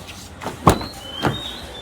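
The rear box door of a 2019–2020 Toyota Revo 2.4J pickup with a closed cargo box swings open, giving a short metallic clack and a faint creak, heard close and alone.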